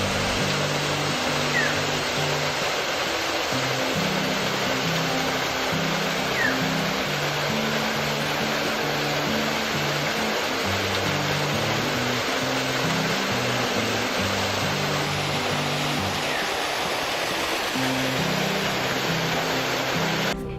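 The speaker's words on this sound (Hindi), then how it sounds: "कल कल करते इन झरनों से बहता ताजा पानी पर्यटकों का मन मोह लेता है।" Waterfalls at Upper and Lower Ghaghri in Netarhat, Jharkhand, give a steady, loud rush of falling water that fills the whole clip, with a low droning tone running beneath it.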